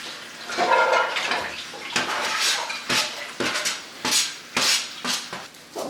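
Onions tossed into a baking dish in a kitchen during vegan Thanksgiving cooking, a series of close knocks and clatters against the dish with some rustling between them, and no talking.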